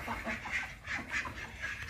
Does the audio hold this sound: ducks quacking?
yes